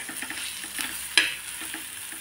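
Onion sautéing in a pan for a Khandeshi bitter gourd dish: a soft, continuous sizzle with light stirring scrapes and one sharp clink of a spoon against the pan.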